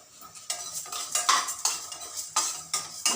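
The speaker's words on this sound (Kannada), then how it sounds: "ಎಲ್ಲ ಡ್ರೈ ರೋಸ್ಟ್ ಮಾಡಬೇಕು." Urad dal and pepper being dry roasted in a pan, with a spoon scraping and stirring in quick repeated strokes, close and dry-sounding, with no voices.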